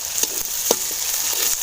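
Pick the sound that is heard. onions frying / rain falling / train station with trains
onions frying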